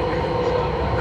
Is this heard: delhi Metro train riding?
yes